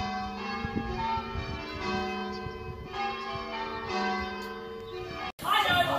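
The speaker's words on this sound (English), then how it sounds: "The church bells aren't stopping." Church bells pealing repeatedly outside a theatre, overlapping tolls in an ongoing sequence that ends abruptly, followed by a burst of louder indoor noise.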